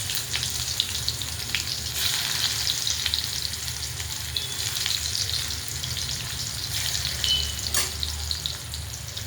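Onion frying in oil with cumin for a green bean vegetable dish, a steady loud sizzle and crackle running throughout, with occasional stirring scrapes and no voices.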